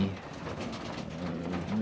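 Pigeons coo softly at an evening feeding in minus ten frost, low throaty calls rolling close by over a steady background hum, with a faint voice nearby.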